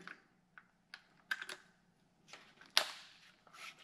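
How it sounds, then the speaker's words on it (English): A metal cutting blade is swapped in a Sawzall reciprocating saw, with scattered close clicks and small metallic snaps ending in one sharper clack, all faint in a quiet setting. "I think a Sawzall will work to cut that. So put a new metal cutting blade in here."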